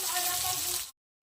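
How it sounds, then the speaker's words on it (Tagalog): Tilapia frying in a pan, a loud close hiss and sizzle of hot oil that holds steady for under a second and then cuts off abruptly into silence. "ako po yung nagpiprito ng aking ulam"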